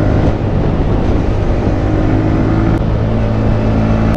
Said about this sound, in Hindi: अभी मतलब बाइक को थोड़ा फूल के चला पा रहे हैं ना तो अच्छा लग रहा है